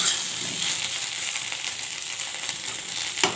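Vegetable pieces fry in hot oil for a Sambalpuri taro and mustard curry, giving a close, steady, dense sizzle with small crackles and no pause.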